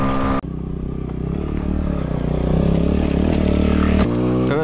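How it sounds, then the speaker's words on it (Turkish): A Yuki Scrambler motorcycle ridden off-road, its engine droning loud and close with rising revs and clattering chassis noise, cut off by an abrupt shift near the end. "motosikletim valla arazi performansı müthiş"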